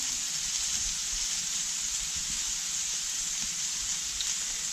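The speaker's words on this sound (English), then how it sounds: "So my onions are browning up quite quick here, which is nice." Onions browning in a hot cast iron pan on a La Nordica Rosa Sinistra reverse-cast soapstone wood cooker give a steady, even sizzling hiss that holds without a break throughout.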